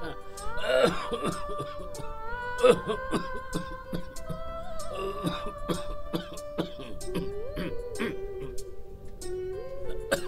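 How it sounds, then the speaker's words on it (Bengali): A man coughs in repeated harsh bursts during a Bengali radio drama, with other voices and a tonal background running under the coughs. "অত কাশছো কেন?"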